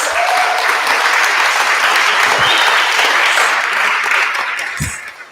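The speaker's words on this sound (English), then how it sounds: "can we please have a round of applause for our incredible speakers?" An audience at a Norman town hall meeting claps for the speakers, a loud, dense round of applause from many people that holds steady, then begins to thin and fade near the end.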